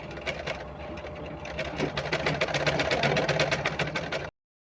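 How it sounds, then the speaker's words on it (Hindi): A sewing machine stitches a Patiala salwar, its needle running in a rapid, steady rhythm that speeds up slightly for about four seconds before cutting off abruptly, close and clear with no talk. "इसके बाद इस तरह से सिलाई लगा लेना है।"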